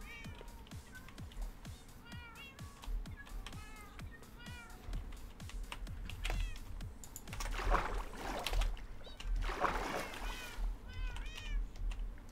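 Small cats meowing in the Minecraft video game, with several short high mews repeating through the scene over a steady low background, a few louder bursts near the end, and some talk in the game world.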